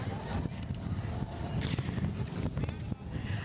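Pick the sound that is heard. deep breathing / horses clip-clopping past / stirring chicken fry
horses clip-clopping past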